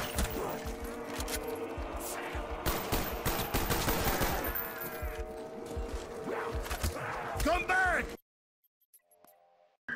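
Call of Duty Black Ops Zombies gunfire in loud, close, rapid bursts mixed with game effects and voices talking over it, ending abruptly in near silence.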